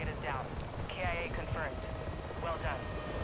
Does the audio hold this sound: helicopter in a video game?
yes